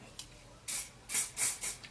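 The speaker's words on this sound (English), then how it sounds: "take a bit of spray" Hair spray is sprayed onto a clear lace wig hairline in several short, breathy hissing bursts, two close together near the end. The bursts are soft and nearby in a quiet room.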